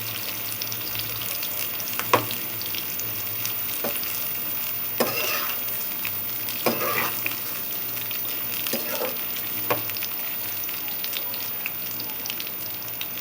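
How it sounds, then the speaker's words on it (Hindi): Eggplant halves frying in a pan, a steady close sizzle and crackle throughout, with soft scraping and stirring clicks at irregular intervals. "2 मिनट तक तलेंगे हम, ताकि ये अच्छी तरह पक जाए।"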